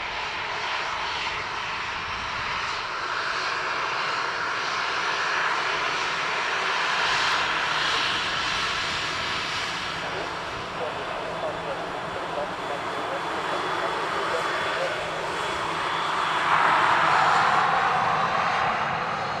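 An Aer Lingus A330 airliner roars steadily at Dublin Airport, its broad jet engine rumble swelling toward the end, with a voice speaking faintly underneath.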